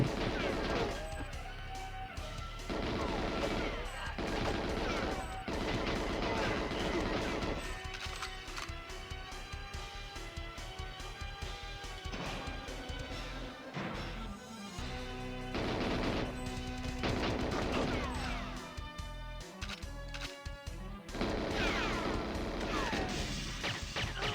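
Gunfire in GoldenEye 007 on the N64 during the Dam mission: loud, dense bursts of shots and impacts over continuous game music and effects, with no pause throughout.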